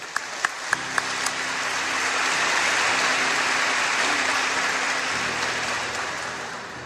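A few scattered claps at an audience gathering quickly build into steady, full applause that holds for several seconds, with hardly any talking.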